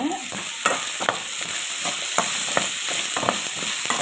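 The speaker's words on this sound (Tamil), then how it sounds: "பூண்டு போட்டு வதக்கிட்டு" Crushed garlic sautéing with onions in a pan for dried-fish thokku, a continuous sizzle broken by repeated sharp scrapes and taps of a spoon stirring at an uneven rhythm, close and fairly loud, with no speech.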